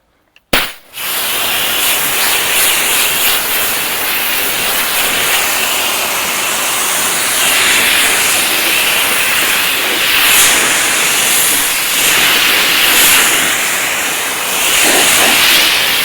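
A pressure washer rinses soap off a car, bursting on abruptly and then spraying as a loud, continuous close hiss with slight surges in strength throughout.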